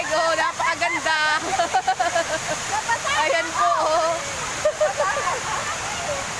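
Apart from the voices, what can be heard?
river water rushing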